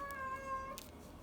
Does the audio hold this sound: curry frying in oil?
no